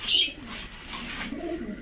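Domestic high-flyer pigeons, Rajshahi and Budapest breeds including a male, give soft repeated coos close by, with faint chirps and no talk.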